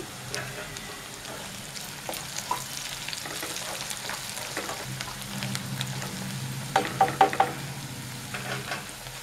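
Ginger, onions and coriander frying in a pan for a kallu chicken curry give a dense, close sizzle, with stirring scrapes and a brief cluster of louder clatters near the end.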